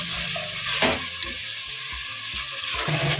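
Ground ginger, garlic and green chilli paste frying in a pan for vegetable pulao, a loud steady sizzle with soft stirring knocks underneath.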